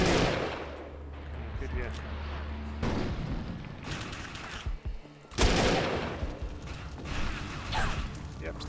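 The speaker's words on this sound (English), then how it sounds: "sniper rifles in this game are pretty powerful" Sniper rifle shots in the sci-fi shooter game Defiance, with sharp loud cracks at roughly three- and five-second intervals cutting through a rumbling mechanical battle background, and someone talking briefly between them.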